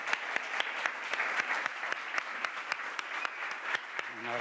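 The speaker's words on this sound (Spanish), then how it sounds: "Un aplauso para Bernabé y para vosotros." An audience applauds at the close of a talk on the history of sport climbing in Málaga, steady dense clapping from a crowd of moderate size, continuous and fairly close.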